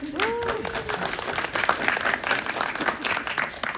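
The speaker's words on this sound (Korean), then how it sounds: "박수 한번 주세요." A cinema audience at a film screening Q&A claps, a dense continuous round of applause with brief voice-like tones at the very start before the clapping takes over.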